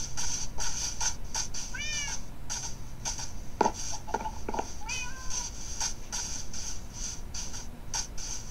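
Cat meows from a Minecraft Pocket Edition world, two short rising calls standing out over a steady game background with light clicks and taps.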